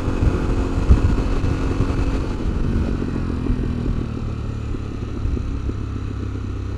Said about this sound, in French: Le pot pétarade gentiment.